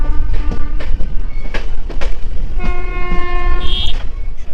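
A special passenger train runs through Buxar, Bihar, its wheels rumbling loudly and steadily on the rails while the horn sounds in several long, loud blasts close by.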